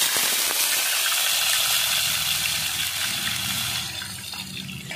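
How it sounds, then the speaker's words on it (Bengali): Onion paste frying in a pan for a Bengali pangas fish curry with yogurt, a loud steady hiss and sizzle throughout, easing slightly toward the end. "পেঁয়াজটাকে ভালো করে একটু ভেজে নেব"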